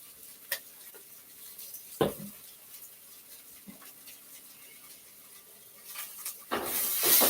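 Onions frying in a pan with sriracha salt added, soft sizzling under scattered stirring clatters and scrapes, a sharp knock near the start and a louder burst of hissing sizzle at the end.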